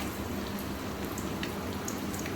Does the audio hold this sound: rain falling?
yes